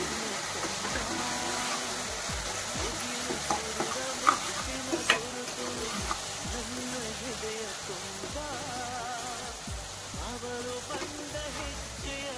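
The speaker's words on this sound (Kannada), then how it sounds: "ಅದ್ರಿಗೆ ಎಣ್ಣೆಯಲ್ಲಿ ಹುರಿತೀವಲ್ಲ, ಸ್ವಲ್ಪ ಕಪ್ ಕಲರ್ ಬರೋವರೆಗೂ ಹುರಿಬೇಕು" Chilli chicken fries in hot oil with a steady, loud sizzle, broken by irregular stirring clatters and a few sharp scrapes, with faint voice-like tones in the background.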